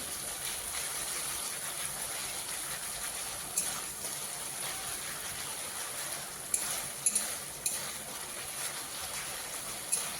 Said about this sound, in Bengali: পেঁয়াজ খুব ভালোভাবে কষিয়ে নিচ্ছি।